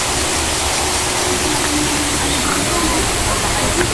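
Water flows continuously over slippery mossy rocks in a stream, a steady full rushing wash, close and unbroken for the whole stretch.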